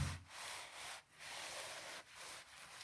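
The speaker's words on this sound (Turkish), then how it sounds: "Kesmeleri attıktan sonra kesme yaptığımız yeri bu şekilde siliyoruz." Cloth wiping along a freshly painted wall edge after cutting in, a close, steady scrubbing rub repeated in three long strokes with brief pauses between them.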